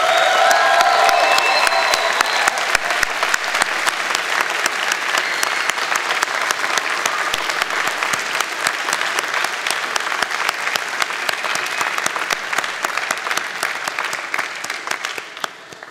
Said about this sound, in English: Graduates, a round of applause for family and friends.